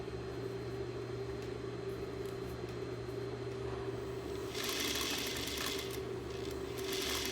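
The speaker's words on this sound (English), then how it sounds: "It can be a little bit tricky when you're sewing a three-dimensional shape into a form" Sewing machine stitching a fabric casing around a rigid three-dimensional form, a steady continuous motor hum running throughout with a brighter, busier patch of stitching near the end; no talking.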